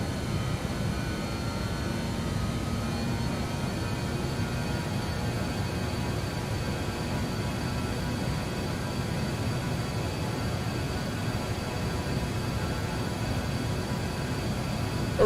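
Steady, continuous roar of an aircraft engine in flight in Microsoft Flight Simulator, a cargo plane flying low from Indonesia to Timor; a dense, unbroken drone with a broadband hiss, loud and constant throughout, with no talk.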